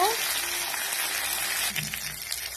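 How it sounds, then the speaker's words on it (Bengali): Potatoes frying in mustard oil until reddish, a steady close-up sizzle and crackle that continues throughout, with a brief clatter near the end. "আলু লাল লাল করে ভাজা হয়ে গেছে"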